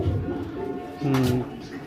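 A breeding pair of yellow Lahori pigeons, one male and one female, gives low, soft cooing close by while someone talks over them. The coos swell louder about halfway through.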